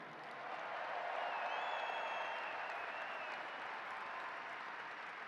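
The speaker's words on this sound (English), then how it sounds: "Mom and Dad, give a little cheer for Edith and John Ray." A large crowd at a Buffalo Sabres Hall of Fame induction ceremony cheers and applauds in a sustained, even roar, with a few whistles rising above the clapping.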